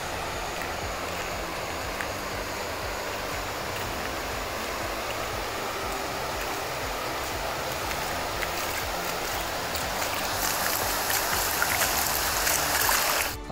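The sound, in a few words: Grajaú river flowing after heavy rains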